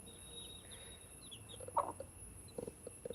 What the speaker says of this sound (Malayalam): ഇതൊക്കെയാണ് കോഴിക്കുഞ്ഞുങ്ങൾ